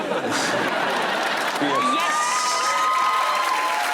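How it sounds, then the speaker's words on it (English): A studio audience at a comedy panel show cheers and whoops loudly, with sustained crowd noise, shouts and a few high voices rising above the roar. "Was that cheering because you like the hot guy or because you're really strong about the podium lectern thing?"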